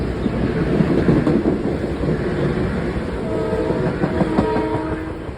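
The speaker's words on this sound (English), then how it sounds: "have I been noticing more 6-car trains on Metro North? More short ones." A Metro North commuter train rolls past nearby, with a loud continuous rumble and rhythmic wheel clatter, and bright horn-like tones sounding toward the end.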